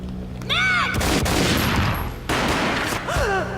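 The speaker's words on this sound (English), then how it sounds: "A gunshot boomed and she fell down in slow motion." Loud, close bursts of rapid gunfire in the video game Max Payne crackle for a few seconds, framed by swooping electronic tones at the start and end.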